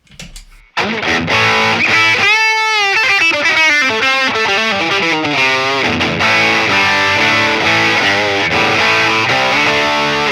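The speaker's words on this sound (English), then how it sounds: "So now let's add the distortion." A distorted electric guitar through a Line 6 POD Go and Wampler Hot Wired dual drive pedal plays loud, gritty notes and chords after a brief quiet start, with sustained saturated tone and some hiss.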